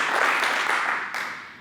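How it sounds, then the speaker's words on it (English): Short burst of audience applause at a real estate training session, steady clapping from a crowd that fades out within a couple of seconds. "clap it up, clap it up"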